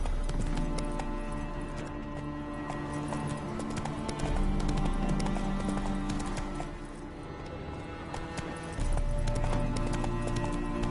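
Horse hooves galloping in the video game The Witcher 3, a loud, continuous rhythmic clip-clop heard up close over game ambience and music, with a brief whinny-like sound.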